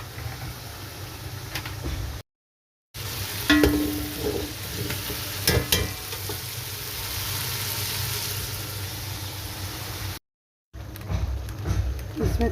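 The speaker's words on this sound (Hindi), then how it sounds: "चिकन को थोड़ा फ्राई कर लेते हैं" Chicken frying in a pan gives a steady, fairly loud sizzle throughout, with a few clinks of stirring, two short silent gaps, and a faint voice in the background.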